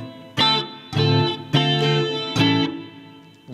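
Electric guitar with its bass roll-off engaged, four strummed chords ringing out one after another with a thin, trimmed low end, played alone and close.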